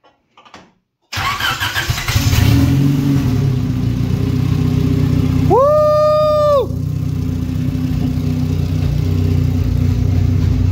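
A Honda B series engine, freshly reflashed after transmission work, cranks briefly and catches, then settles into a loud, steady idle close by, with a brief rising rev and whine partway through.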